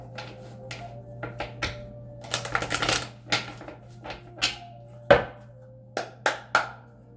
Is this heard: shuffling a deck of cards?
yes